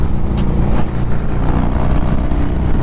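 A 2002 Harley-Davidson motorcycle engine roars under throttle, a loud, close, continuous rumble with a dense low-end throb that holds steady throughout, heard alone without talk.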